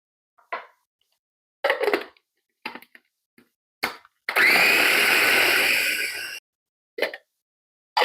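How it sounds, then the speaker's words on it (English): A food processor blending about six medium tomatoes gives a steady, loud whirring roar for roughly two seconds, set between short clicks, bumps and plops of the lid and container in a quiet kitchen. "So I'm going to put them in the food processor and blend them."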